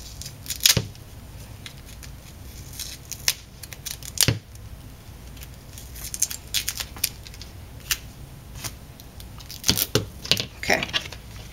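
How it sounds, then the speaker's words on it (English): Scissors snip through a strip of tape in several crisp, separate cuts, close and clear, with quiet rustling and handling between snips. "just going to grab some tape here, and then I'm going to cut a strip."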